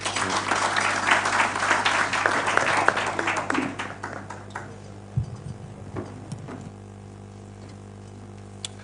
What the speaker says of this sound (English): Another round of applause for the Honorable Paolo Mondi.